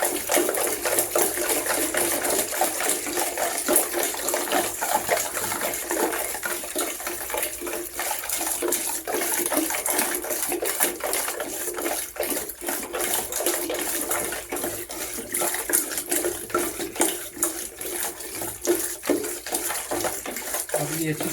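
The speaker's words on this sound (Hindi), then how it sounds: "लेकिन गड़वी के अंदर थोड़ा सा टाइम लगता है, तो इसलिए हम इसको ऐसे मिक्स करेंगे अच्छी तरह से।" Sattu drink being stirred with water and ice in a metal pot, a steady sloshing and swirling of liquid with faint clinks throughout, close and continuous, with a voice speaking over it.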